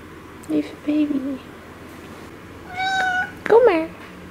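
A cat meows several times close by, with short cries early on and a longer, rising and falling pair near the end, while a person speaks softly nearby.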